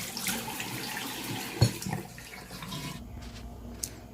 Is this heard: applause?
no